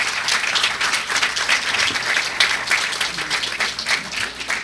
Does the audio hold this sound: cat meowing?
no